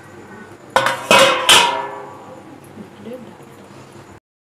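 A metal lid is set onto a cooking pot of khichuri. It lands with three quick clanks close together, then rings out and fades.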